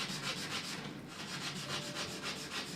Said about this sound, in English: So I'm going to take some sandpaper